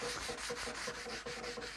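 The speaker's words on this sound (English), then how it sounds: "Yeah, 120 grit sanding block here." A 120-grit sanding block rubs back and forth over a wheel rim, giving a quiet, rhythmic scratchy rasp of repeated strokes close to the microphone.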